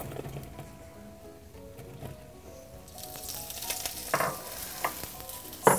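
Garlic and mushrooms cooking together in a pan, a soft steady sizzle with scattered clinks and scrapes of stirring that grow louder and sharper toward the end.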